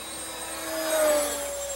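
A foamboard racer RC plane flies at half throttle, a steady electric motor whine with a thin tonal hum that swells slightly as it passes closer, then eases, heard alone.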